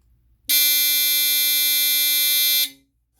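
A General Electric 8201-301 smoke alarm sounds its test buzzer once, loud and harsh, holding a steady electronic tone for about two seconds before cutting off into silence.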